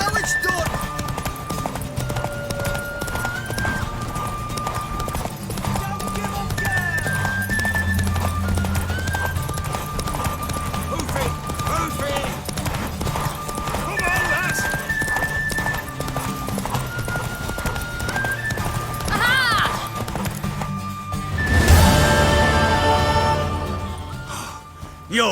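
Horse hooves clip-clop in a steady galloping rhythm in The Witcher 3, with game music and occasional voices layered over the hoofbeats and a sharp burst of noise near the end.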